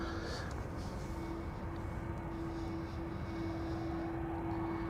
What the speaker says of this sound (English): First up, KLM, flight 765, A330-300, destination Oranjestad, Aruba